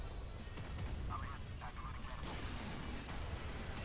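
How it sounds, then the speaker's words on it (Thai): Warship machine gun in the Modern Warships naval combat game fires continuously, a dense stream of rapid bursts with heavy low rumble beneath and a few sharper cracks on top, loud throughout. "โหเสียงปืน ปืนกลคอมเมอร์เช่แม่งโคตรโคตรมันเลยว่ะ"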